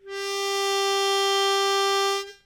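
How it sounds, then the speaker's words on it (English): A single sustained harmonica note, a relaxed 2 draw, rings out clean and steady for about two seconds, close and alone, with no talking. "That's the thing that I want to do when I play this 2-draw."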